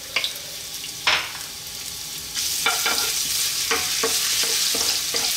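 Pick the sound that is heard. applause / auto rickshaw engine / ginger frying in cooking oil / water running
ginger frying in cooking oil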